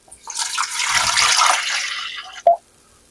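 Water poured from close by into a turkey roasting pan, a steady splashing stream lasting about two seconds, loud and alone, ending with a short sharp clink.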